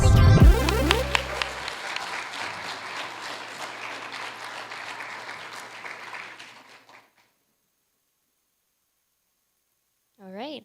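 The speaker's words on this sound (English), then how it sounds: "a round of applause." Audience applause at a security conference talk on writing an iOS decompiler, a dense burst of clapping that fades out after about seven seconds, followed by silence and a brief voice at the end.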